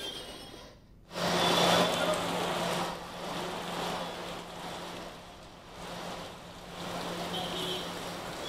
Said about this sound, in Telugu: జీడిమెట్లలో కుండపోత వర్షం కురుస్తోంది